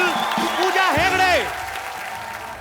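Studio audience applauding to welcome guests on a comedy talk show, a steady wash of clapping under an announcer's voice and rising music.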